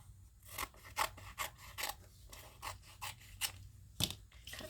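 Scissors snip through a folded glossy magazine page in a run of crisp, close cuts, about a dozen quick bursts with short pauses between them, and no talking.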